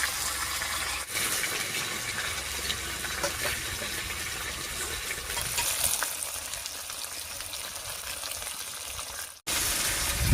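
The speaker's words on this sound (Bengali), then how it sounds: "একটু নিচটা ভাজা হতে দেবো" Marinated magur catfish fries undisturbed in a pan, giving a dense, continuous hiss and crackle that stays loud and close with no talking, briefly cutting out near the end.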